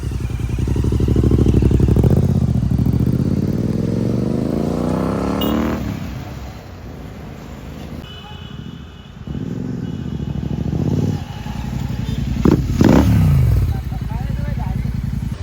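A motorcycle is ridden with its engine running steadily close by throughout, rising and falling as it revs and shifts, while wind or road noise hisses over it.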